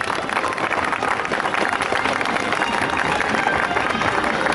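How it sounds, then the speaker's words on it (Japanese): Sustained applause from an audience at the awards ceremony of the Tour of Japan 2016 cycling race, Mino stage, dense steady clapping throughout, loud and even. "改めて大きな拍手をお願いいたします。"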